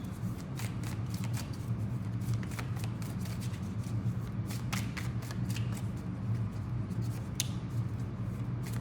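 Tarot cards are shuffled continuously with a steady papery riffle and rapid crisp flicks, close and fairly quiet, with no voice over it.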